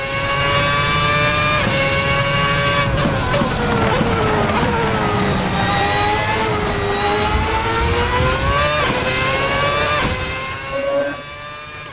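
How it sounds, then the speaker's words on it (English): A simulated 2010 V8 race car engine revs hard and loud, its pitch climbing and dipping through shifts and braking, then easing off near the end; no talking. "I'm just in love with the sound of that V8 engine."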